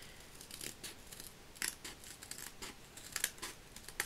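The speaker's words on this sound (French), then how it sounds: "Si j'arrive à couper." Scissors snipping through red paper while making a pop-up Valentine's card, a series of crisp close cuts in an irregular rhythm, quiet and without talk.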